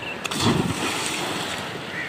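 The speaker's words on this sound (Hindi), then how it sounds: "बासित भाई छलांगे लगा के दिखा रहे हैं।" A person jumps into canal water, making one brief, close splash near the start that fades into a wash of water and open-air noise.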